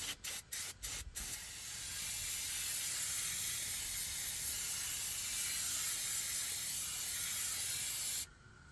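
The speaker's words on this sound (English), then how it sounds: "let's hit it with some brake cleaner right now before anything" Aerosol brake cleaner sprays onto a CAT C0.5 APU engine near its rear main seal: a few short bursts, then one long, loud, steady hiss lasting several seconds before it cuts off.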